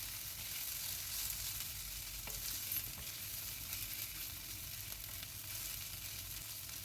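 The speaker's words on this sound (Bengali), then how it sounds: "গ্যাসের ফ্লেম মিডিয়ামে করে এটাকে একটু ভেজে নেব যাতে আদার কাঁচা গন্ধটা চলে যায়" Ginger paste fries in oil in a pan over a medium gas flame, giving a steady, close sizzle with soft stirring scrapes throughout and no voices.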